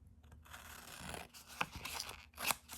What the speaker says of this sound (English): I want to cut out these houses to use for this.